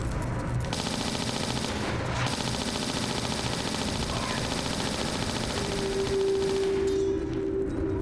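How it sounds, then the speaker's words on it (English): Gunfire from Tomb Raider: The Last Revelation rattles on continuously as dense, rapid shots under a steady game soundscape, with a brief tone near the end. "Boy, am I blowing through those bullets."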